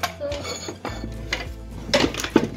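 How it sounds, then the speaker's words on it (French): A knife cuts into a baked caramelized apple croustade and clinks against the dish or pan, giving a few close scrapes and light metallic taps with faint background noise. "Je vais découper en morceaux en espérant que je vais prendre un couteau"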